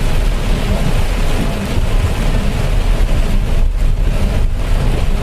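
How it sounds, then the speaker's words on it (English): A bad thunderstorm pours steady, loud rain with a constant dense roar that never breaks, and low rumbles run underneath. "this is a bad storm. Yeah, it's going to be raining for a while."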